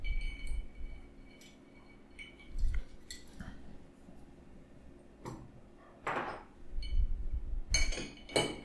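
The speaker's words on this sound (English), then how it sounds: "Just giving it a little stir." Stirring an Old Fashioned cocktail with orange peel in a glass: soft, close clinks and light scraping of ice against glass come in scattered bursts over a quiet background, with no voices.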